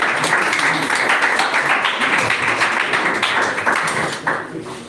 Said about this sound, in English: Can you clap for them, please?